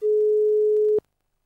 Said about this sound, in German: Das hört sich an wie ein Freizeichen.